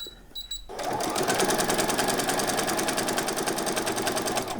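A sewing machine back stitching doll bedding starts after a brief pause and runs as a fast, steady, close mechanical stitching rattle, with no speech.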